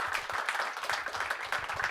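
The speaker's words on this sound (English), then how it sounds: "let's make a round of applause for Andrea" An audience at a talk claps in brief applause, a steady patter of many hands at moderate distance.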